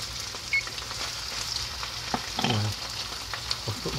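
Poke salad greens frying in grease in a pan give a steady close sizzle and crackle, with a few stirring scrapes and soft clatters, no voices.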